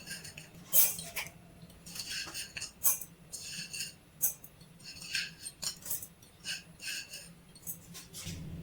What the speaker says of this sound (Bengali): এই মিক্সির বাটির মধ্যে গোবিন্দভোগ চালটা ঢেলে নেব।